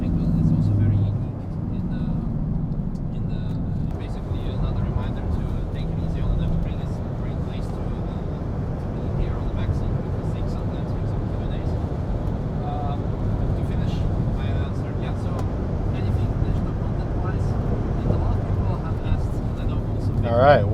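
A VW T6 Multivan is driven around a race track, its engine and road noise a steady, moderately loud rumble under a voice talking inside the cabin for the whole stretch.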